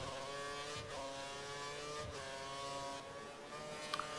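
A Formula 1 car engine in the F1 2013 racing game at the Malaysia circuit, on worn-out tyres through slow corners, holds a continuous high-pitched whine with brief pitch drops at gear changes, loud and steady with no talk.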